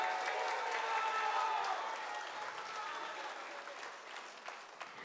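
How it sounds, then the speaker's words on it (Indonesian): Applause from the audience at a public debate between regency head candidates in Malinau, Indonesia, broad and full at first, then gradually tapering off with a few scattered claps near the end. "Sekali lagi boleh kita berikan tepuk tangan Bapak Ibu sekalian"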